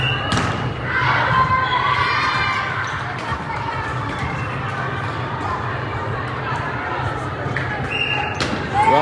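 Volleyball tournament match with a ball being served and struck, soft thumps under steady crowd noise, chatter and shouting from spectators in an echoing gym.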